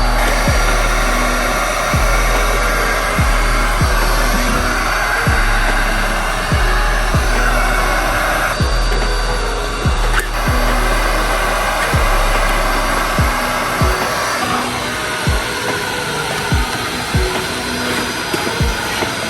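A heat gun blows steadily on carbon fiber wrap while it is molded around car interior trim, producing a loud, continuous roaring hiss with a faint repeating low pulse running underneath for the whole stretch.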